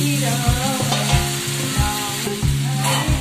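Bay leaf, cumin seeds and dried red chillies sizzling in hot oil in a pan for a meat curry, a loud close crackling hiss with rhythmic metallic stirring knocks roughly every half second, no talking.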